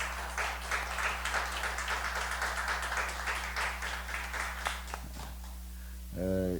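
A church congregation claps in a steady patter for several seconds during a Friday late-night prayer meeting, then the applause tapers off under a low background hum.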